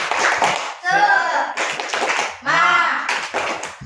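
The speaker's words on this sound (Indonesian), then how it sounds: "Tepuk semangat." A class of children does the tepuk semangat cheer, rhythmic clapping bursts alternating with loud chanted voices in a classroom, several sharp clap patterns separated by shouted syllables.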